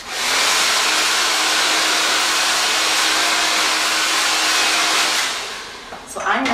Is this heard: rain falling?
no